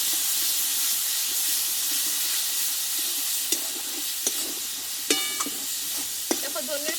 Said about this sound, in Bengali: ধনিয়ার পাতাটা দিয়ে আমি একটু নাড়াচাড়া করে নেবো